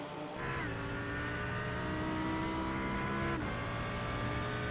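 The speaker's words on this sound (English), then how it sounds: "we might jump on board the cockpit with Sam and just get a lap of Bathurst as he goes around now" On-board GT3 race car in an enduro racing game at Mount Panorama, Bathurst, holds a loud, steady engine whine as it climbs through the revs. A sharp upshift cuts in near the end before the pull resumes.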